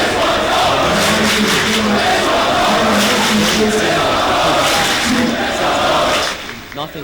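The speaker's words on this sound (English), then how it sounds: "you can hear the crowd starting to get loud" A high school basketball crowd roars loudly and continuously as a game between SPHS and Marist nears its end, with the dense cheering easing off in the final moment.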